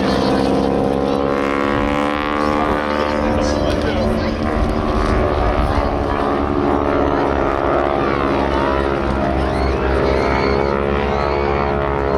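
A propeller aircraft, the number 2 plane of the Blue Aircraft display team at the Midlands Air Festival, drones loudly and continuously with a steady harmonic engine tone, while a commentator talks over it throughout.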